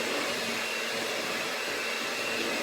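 An electric hand mixer whirs steadily through brownie batter, a close, even, continuous motor drone with no pauses.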